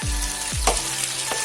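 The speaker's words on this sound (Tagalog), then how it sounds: "I am going to fry siomai for my business." Siomai frying in a pan, giving a loud, steady close-up sizzle with a few low thumps and clatters on top.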